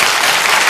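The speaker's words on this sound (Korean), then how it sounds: "박수 한번 쳐주시고요" A brief, loud burst of audience applause at a lecture on reading, a dense clatter of many hands lasting under a second.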